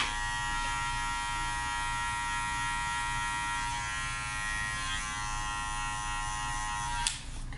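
Electric hair clippers hum steadily at close range while cutting a taper into a man's hair at a barbershop, a constant motor buzz with a brief sharp click near the end.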